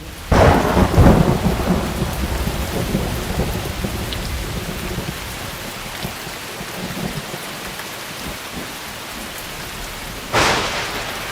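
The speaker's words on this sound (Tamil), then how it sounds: "இடியுடன் கூடிய கனத்த மழை இடைவிடாமல் பெய்ததினால் தெருக்களும் நீர்நிலைகளும் வெள்ளப்பெருக்காய் காட்சியளித்தது" A thunderstorm with heavy rain pours steadily and densely throughout, a loud thunder crack opening it and another sharp clap near the end, with no voices.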